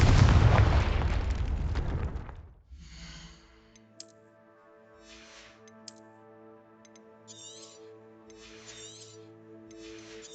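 A Confringo blasting spell from Hogwarts Legacy erupts as a loud, roaring explosion that fades over about two seconds into quiet game music with light chiming accents.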